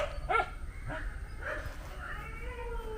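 A dog gives a short bark or yelp near the start, followed by fainter whimpering and yipping sounds in a quiet domestic setting.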